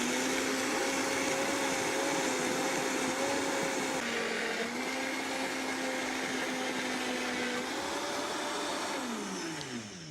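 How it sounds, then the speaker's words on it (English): A high-powered kitchen blender runs continuously, loud and close, starting low and climbing in pitch and speed, with a whirring motor tone that shifts near the end as a thick cheese mixture churns. "I always start the blender on low, and then try to get it cranking up from there"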